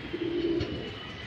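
Pigeons coo in a loose flock, one low steady coo standing out briefly over a murmur of soft background noise and faint bird calls.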